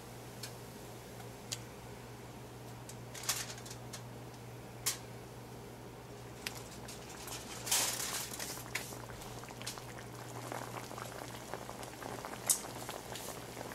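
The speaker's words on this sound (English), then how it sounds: "Now that it's back up to the boil" Pork chops boil in chicken stock in a pot, a faint steady bubbling with scattered soft ticks and pops, heard alone without talk.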